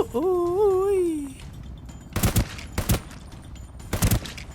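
Bursts of rapid gunfire in the online shooter Ring of Elysium, three loud clusters of shots following a whistling tonal in-game sound at the start, with no talk over them.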